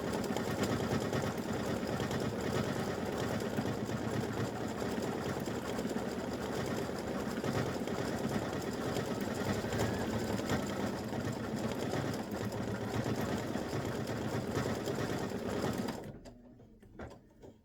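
An embroidery machine stitches a design steadily and continuously, a dense mechanical whir that holds at even loudness before stopping abruptly near the end.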